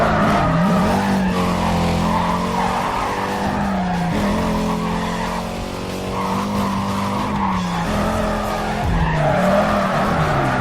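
A car fishtails and skids through a street race in the video game Need for Speed Carbon, tires squealing continuously over a loud, revving engine with shifting pitch throughout.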